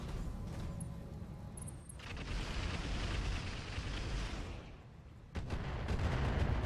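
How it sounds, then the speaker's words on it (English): A mech blows up in the video game Roguetech with a long, rolling explosion roar that swells, dips briefly, then surges again with a fresh blast near the end, heard alone. "So whatever that explosion was,"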